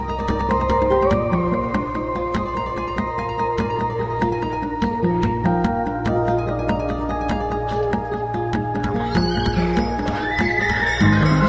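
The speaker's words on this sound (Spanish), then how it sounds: "los caballos cartujanos de largas crines que nunca pierden el compás" Cartujano horses in Jerez, Andalusia, neighing and striking their hooves, loud and steady over dense continuous music that runs throughout.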